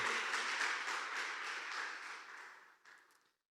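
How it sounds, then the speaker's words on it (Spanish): A congregation claps together in sustained applause that gradually tapers off, ending with a few scattered claps before silence. "¿Por qué no le da un aplauso al Señor?"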